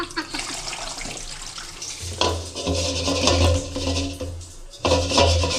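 Water pours and splashes into a cooking pot being filled for rice, in loud bursts with brief pauses between them, and someone speaks softly in the background.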